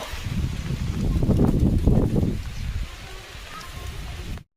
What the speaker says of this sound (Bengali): বন্ধুরা বৃষ্টি পড়ছে দেখো